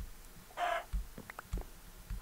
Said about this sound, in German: Was macht ein Huhn da?